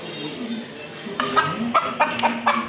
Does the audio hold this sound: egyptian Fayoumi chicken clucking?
yes